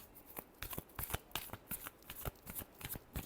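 Tarot cards being shuffled by hand in a steady series of crisp riffling bursts, close and fairly quiet, with no talking.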